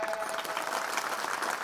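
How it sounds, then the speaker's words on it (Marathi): Brief burst of audience clapping at a Marathi kirtan gathering in Sarani village, a dense, fairly loud patter of many hands with no speech. "टाळ्या."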